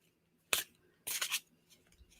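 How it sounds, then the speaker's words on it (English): Tarot cards are shuffled during a live reading: two quick papery riffles, the second longer, then faint soft rustles, close and quiet in an otherwise silent room. "I'm just shuffling."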